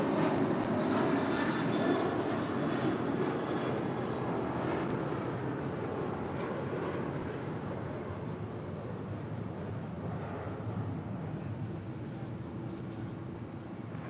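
A jet airliner roaring down runway 25 right at LAX on a full-length takeoff, a loud sustained engine rumble that eases slightly as it pulls away.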